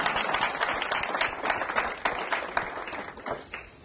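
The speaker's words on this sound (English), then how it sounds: "Go ahead, you can clap." Audience clapping at a leadership institute talk, a steady dense patter of many hands filling the room at full strength before easing slightly near the end.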